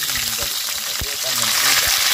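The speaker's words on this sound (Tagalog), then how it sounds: "Mainit na po yung ating mantika at kawali. Sobrang init na po. Prituhin natin." Fish frying in very hot oil in a pan gives off a hissing sizzle, heard beneath a person talking.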